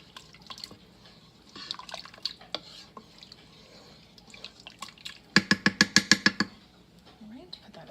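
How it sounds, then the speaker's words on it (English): Chowder of corn and chili stirred in an Instant Pot, soft liquid sloshes early on, then a burst of about seven quick metallic clinks of a spoon against the pot, with a voice speaking at times. "Give this a good stir first."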